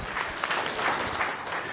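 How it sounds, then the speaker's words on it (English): Audience applause for presenters and sharers at a community event in an auditorium, a steady wash of clapping from many hands for a couple of seconds, moderately loud and even throughout. "can you help me to give another round of applause to our presenters"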